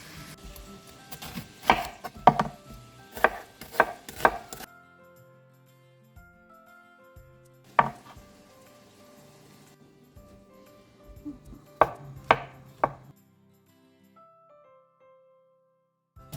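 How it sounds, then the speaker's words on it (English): Sharp knife chops through onions, garlic and mushrooms on a cutting board in quick bursts of several strokes, separated by pauses, fairly close and clear with no talking. "we're gonna cut up our onions, garlic, and mushrooms"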